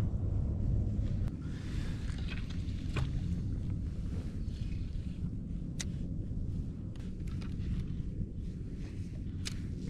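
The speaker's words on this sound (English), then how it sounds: "Either that or it's the wind's picking up" Wind buffets the microphone steadily out at sea during kayak fishing, a dense low roar with faint sloshing and scattered small knocks above it.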